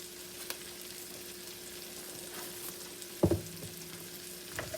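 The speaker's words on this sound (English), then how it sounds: "you're going to cook those until the onions are soft and nearly caramelized" Onions cooking down over medium heat in a pan for beef stroganoff, a faint, even sizzle with a steady hum underneath and one brief clatter of a utensil partway through.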